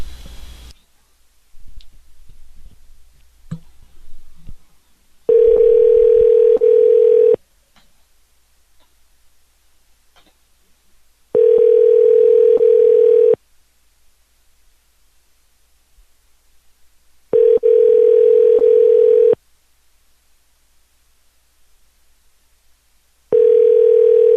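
A telephone call rings out with a steady ringback tone, four evenly spaced bursts of about two seconds each separated by silent gaps, after a brief stretch of faint handling noise at the start.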